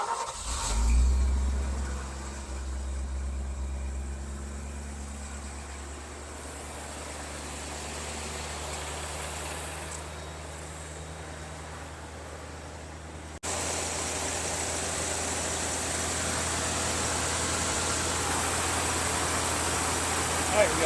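A Ford F600 pickup engine turns over and settles into a steady, low rumbling idle that rises slightly partway through, close up, with some talking over it.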